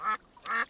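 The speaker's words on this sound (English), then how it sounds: "Flop, that duck quacked at Hoppity." Two short cartoon duck quacks in a children's animated show, close and clear, separated by a brief pause with no talking.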